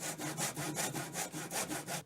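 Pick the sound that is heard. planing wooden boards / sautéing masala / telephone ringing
planing wooden boards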